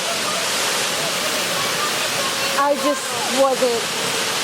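Fukuyawa Falls in Okinawa, Japan pours in a constant broad hiss of falling water, steady and close, while a child's and an adult's voices speak briefly over it.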